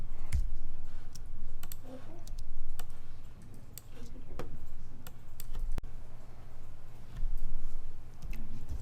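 Computer keyboard arrow keys click in quick irregular taps while drawing a star shape in Adobe Illustrator, crisp close clicks over a low steady hum.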